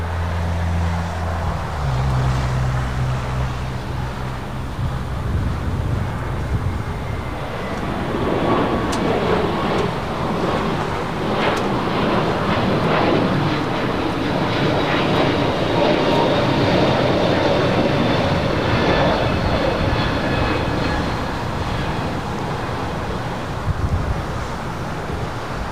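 A Delta Airbus A330neo, a brand-new airliner, rumbles steadily at an airport amid wind noise, and the broadband roar builds and holds throughout.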